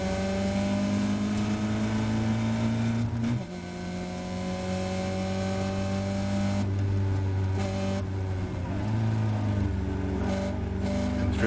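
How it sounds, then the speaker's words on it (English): A Caterham race car engine revs hard on the grid at Silverstone, then pulls away at the start, a loud onboard drone rising through several gear changes with brief dips between them, with no talk. "those extra revs really helping getting the car in motion and getting good traction"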